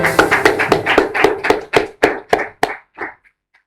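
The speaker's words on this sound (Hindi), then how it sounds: "तालियां बजाएं" Game show audience applauding a correct answer, a run of sharp, rhythmic claps that are loud and close at first, then thin out and fade to silence.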